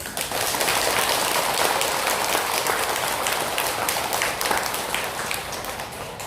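Dense, sustained applause from a large audience at a Buddhist dharma talk by a monk, a steady loud roar of many hands clapping together that holds for several seconds without speech.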